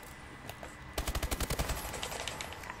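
Automatic weapon fire in Call of Duty: Advanced Warfare, a quick burst of about a dozen rapid shots after a quiet lead-in, fairly loud within the game mix.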